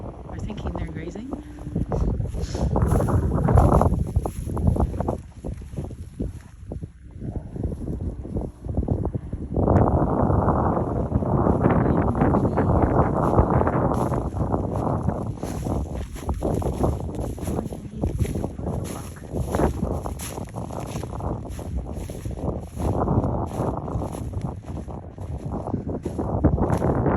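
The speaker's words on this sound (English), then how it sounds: "It wasn't so windy today. It'd be a really nice day, but the wind is freaking cold." Cold winter wind blows hard outdoors around a farm barn in December, roaring and buffeting the microphone almost without a break, with gusts that rise and fall.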